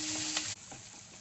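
Chopped onion frying in hot oil with black cumin seeds, a soft, steady sizzle with a faint stirring scrape, quiet and close.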